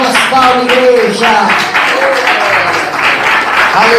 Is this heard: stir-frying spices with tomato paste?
no